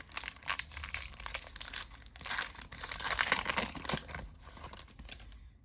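A foil pack of 2019 WWE Money in the Bank hobby trading cards is torn open close to the microphone, with sustained crinkling and crackling of foil over several seconds.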